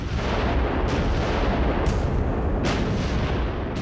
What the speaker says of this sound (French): Les obus britanniques s'abattent sur les navires français.